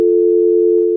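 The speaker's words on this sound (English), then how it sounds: "Let's take a phone call." A telephone line plays a steady busy tone, one loud unbroken buzz held for about a second before it cuts off. It is clean and close, with no voices.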